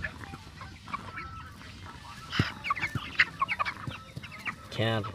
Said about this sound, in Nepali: ख्याल ख्याल ख्याल गरिरहेको हुन्छ।